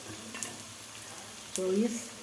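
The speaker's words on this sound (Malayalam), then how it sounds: "അപ്പോൾ മഞ്ഞൾപ്പൊടിയും ഉപ്പും ചേർത്ത് നന്നായിട്ട് വഴറ്റി കേട്ടോ, ശരിക്കും വഴറ്റിയെടുത്തേ" Spices sauté with turmeric powder and salt in a pan for a boti fry, giving a steady, moderate sizzle with light stirring. A voice speaks briefly near the end.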